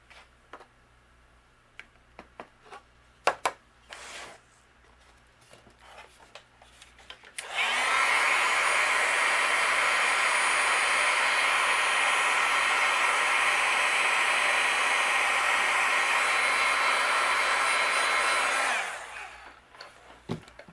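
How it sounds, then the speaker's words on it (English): A heat embossing tool blows hot air over a stamped card, a steady, loud whooshing hum that starts abruptly partway through, runs for about eleven seconds and cuts off, with quiet tapping and handling sounds before it. "And we'll just heat emboss these as well."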